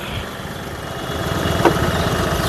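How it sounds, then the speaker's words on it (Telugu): A 2017 Mahindra TUV300 T8 AMT engine idles steadily at low volume, a smooth continuous hum with a brief click partway through. "ఇంజన్ యొక్క నాయిస్ చాలా అంటే చాలా సైలెంట్గా అయితే ఉంది"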